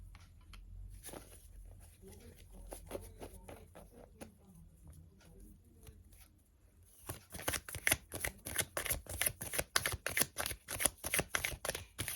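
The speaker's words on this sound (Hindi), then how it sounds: "तो मैं कार्ड्स निकालूंगी आपके लिए, आपके पार्टनर के बारे में।" Tarot cards being shuffled during a Hindi love-life reading: soft scattered riffles at first, then from midway a loud, rapid run of crisp card flicks close to the microphone.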